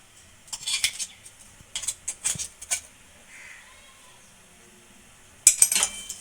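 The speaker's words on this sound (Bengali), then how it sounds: "এভাবে একটু নাড়াচাড়া করতে থাকবো।" Ginger paste stirred in a pan with a metal spoon, heard as bursts of clinking and scraping separated by quiet pauses, with a final louder clatter.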